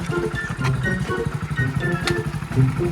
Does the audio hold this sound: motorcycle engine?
yes